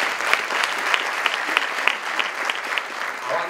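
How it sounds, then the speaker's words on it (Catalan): An audience at a public debate on territory, campsites and tourism in Blanes claps steadily, with dense, moderately distant applause and scattered sharper claps, free of speech. "Doncs demanaria també un aplaudiment pel Xavi Martí."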